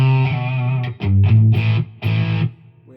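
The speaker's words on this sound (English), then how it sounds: "Now if I turn off this is the distortion that I get from the amp." An electric guitar through the distortion channel of a Fender amp with the pedal off, using the British amp setting: sustained distorted chords in a few strummed bursts, loud and close, with a thick, somewhat boomy low end.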